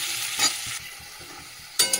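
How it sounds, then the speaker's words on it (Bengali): Potatoes with salt and turmeric fry in hot oil, a loud close sizzle that swells in bursts as the pieces are stirred and turned in the pan. "চলো নুন দিয়ে দিলাম, হলুদও দিয়ে দিলাম, আলুটা দিয়ে একটু লাল করে ভেজে নিই।"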